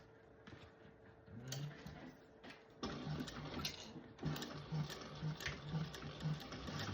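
A sewing machine stitches up a fabric candy bag in short, quiet runs: soft mechanical whirring with rhythmic needle clatter, starting and stopping in a few brief bursts, with faint room noise between.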